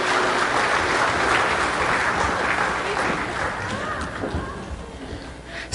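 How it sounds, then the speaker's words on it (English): Church congregation applauding standing students during a youth sermon, a sustained broad patter of clapping with voices mixed in that gradually fades toward the end. "I'm going to go ahead and give them a round of applause."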